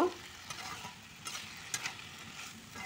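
Tender vegetable stems with salt, turmeric and green chillies are stirred in a pan, soft scrapes and taps of the spoon over a faint sizzle, quiet and close, without speech.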